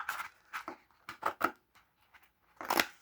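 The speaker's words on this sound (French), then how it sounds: "Et ensuite, on va utiliser des ciseaux." Scissors snipping while crafting a Lego superhero cape, a series of crisp, close cuts in irregular bursts with brief quiet gaps, soft and alone without talk.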